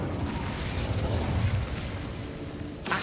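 Casting the Incendio fire spell in Hogwarts Legacy produces a low, rumbling burst of flame, a dense roaring whoosh that holds steady for a few seconds before a brief sharper flare at the end.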